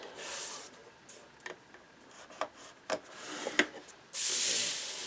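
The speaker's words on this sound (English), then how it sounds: "And these longer ones, we are going to score at a 1/2 inch on both sides." Paper for a mini album is scored by hand at half-inch lines, producing a series of soft scraping rubs and a few light clicks close up, with a brief louder hiss at the end and no voices.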